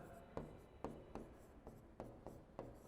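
Chalk or marker writes on a board during a chemistry lecture, with quiet, regular taps and short scratchy strokes roughly every half second.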